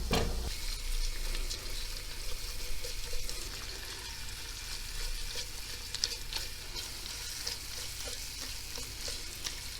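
Tomato and pepper paste sizzling in a pan, a steady close frying crackle with soft stirring scrapes throughout, no voices.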